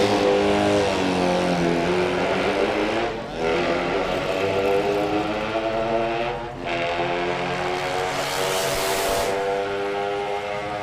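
John Hobbs' Hobbit Olympus drag racer launches and blasts down the strip, a loud, continuous engine roar with rising harmonic pitch across the whole run, brief dips as it shifts gears.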